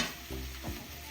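Steak searing in a pan for a quesadilla, a steady close sizzle running the whole short moment with a couple of louder pops and spatters breaking through.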